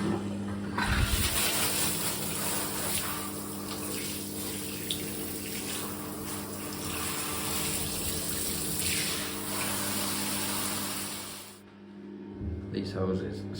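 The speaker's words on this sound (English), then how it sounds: "Hose on, water on, tester." Water from a turned-on tap rushes steadily through a hose during a plumber's job, a continuous hiss lasting about eleven seconds before cutting off, followed by a few handling knocks.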